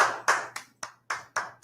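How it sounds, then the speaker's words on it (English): Seven sharp hand claps at an uneven, relaxed pace, close and fairly loud, with brief quiet gaps between them. "Yeah, clap for yourself."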